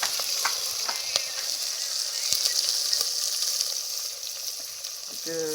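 Onions frying in hot oil in a pan for a chicken dish give a steady, close sizzle and hiss, with a few light stirring clicks throughout.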